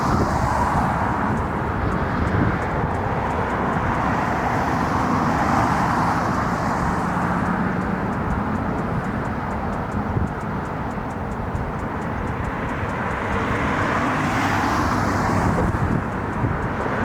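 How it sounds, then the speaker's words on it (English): An Avianca airliner taking off sends a steady, broad jet roar that holds at an even level for the whole stretch, with no pauses or voices. "Avianca decided to take off."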